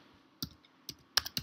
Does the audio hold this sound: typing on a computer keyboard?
yes